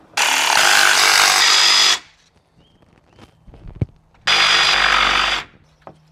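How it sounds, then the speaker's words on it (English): A jigsaw cutting notches in wood for a garden bar, with two loud, sustained bursts of buzzing sawing separated by a pause filled with faint knocks and handling noise. "I'm just going to trim a couple of notches with a jigsaw and then chisel the rest out."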